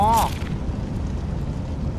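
An explosion in the stealth video game Styx: Master of Shadows: a short, loud burst at the very start that fades into a steady low rumble and noise.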